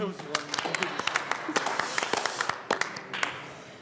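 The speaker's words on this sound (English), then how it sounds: "Everyone should give a clap for that one." Scattered clapping rises in a legislative chamber for a member's motion, irregular claps from a modest group mixed with murmuring voices and talk over the top.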